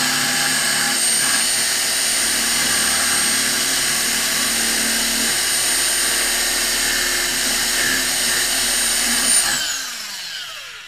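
A drill widening a hole in a guitar tuning peg, heard as a steady, loud, high-pitched whine held for about nine seconds close up, then quickly spinning down at the end, with no voices.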